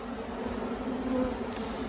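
Honey bees buzz steadily at a hive with nucleus colonies close by, a dense continuous drone that holds at an even level throughout with no voices.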